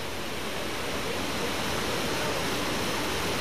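A large river rushes past in a loud, unbroken roar of flowing water, close and constant from start to finish with no other sounds over it.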